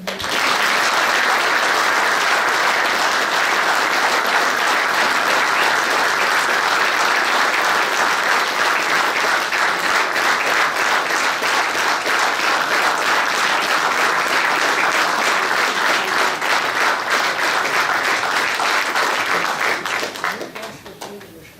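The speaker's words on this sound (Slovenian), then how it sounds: "In en velik aplavz in hvala tudi orkestru Slovenske vojske pod vodstvom dirigenta Gregorja Vidmarja." At a firefighters' newsletter anniversary ceremony, an audience gives the Slovenian Army orchestra long, loud, sustained applause, a dense wash of many hands clapping for about twenty seconds before it fades out at the end.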